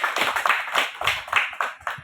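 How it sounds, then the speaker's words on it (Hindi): Audience applause honoring fathers at a Father's Day church gathering: steady, fairly close clapping from many hands, dense and unbroken for the whole stretch with no voices over it. "आइए हम ताली बजाएंगे सारे लोग"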